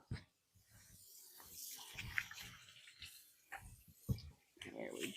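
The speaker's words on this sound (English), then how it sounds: "I'm going to take that Worcestershire with me and give it a quick wash." Tap water runs in a kitchen sink while a Worcestershire sauce bottle is quickly washed, giving a faint splashing hiss with a few clunks of glass, under close talk.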